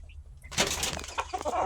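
Brief bustle of chickens clucking and scratching nearby, with a flurry of rustling and flapping and faint background hum, lasting under two seconds.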